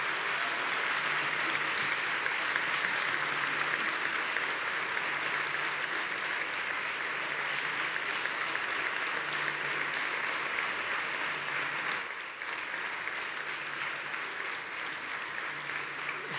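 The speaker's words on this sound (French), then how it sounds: "Je crois que c'est des applaudissements très mérités." Sustained audience applause fills a room at the close of a question-and-answer session with Lydia and Claude Bourguignon, steady and dense throughout with a brief dip near the end.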